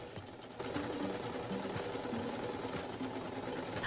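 A sewing machine runs steadily, stitching around the perimeter of a DIY product made from old materials, its motor humming with a continuous rapid needle rhythm after a brief quieter start.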